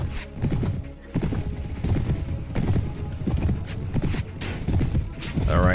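Hooves of a horse ridden in a medieval battle video game clip-clop steadily and fairly close, with occasional whinnies and a busy mix of game sounds underneath.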